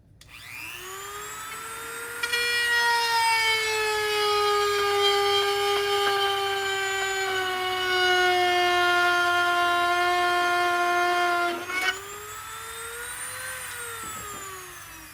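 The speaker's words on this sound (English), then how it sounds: "I'm just going to use my Dremel and drill out a little notch for the wire" A high-pitched Dremel rotary tool whines steadily while drilling a notch in plastic, its pitch shifting slightly as it bites into the material, then briefly spins down and revs back up near the end.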